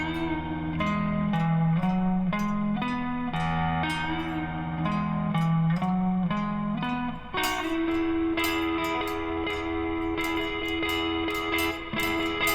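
Electric guitar with effects plays an instrumental part of a song, shifting chord tones ringing out steadily and then moving higher, a full, sustained, echoing tone close and loud without speech.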